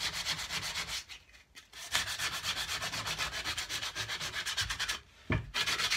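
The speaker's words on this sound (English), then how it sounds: "Now you can also do with sandpaper." Sandpaper scrubbed briskly over cigar box guitar wood, a loud close rasping with steady back-and-forth strokes and two brief pauses between passes.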